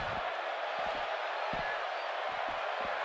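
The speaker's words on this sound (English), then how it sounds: "by the sound of this crowd, I think they're getting what they wanted." Sold-out wrestling crowd cheering in a big arena, a steady distant roar with periodic low thumps from the ring underneath, continuous throughout.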